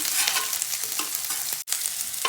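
Chopped capsicum and onion hit a hot pan and sizzle steadily, with scraping stirring strokes up close and a brief dropout near the end.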